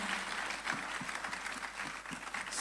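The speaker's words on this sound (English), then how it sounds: "A round of applause for yourselves." An audience at a summit applauds steadily, a dense wash of clapping at moderate volume that carries through the whole moment.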